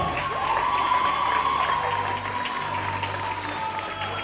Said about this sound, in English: Please give all the awardees a round of applause.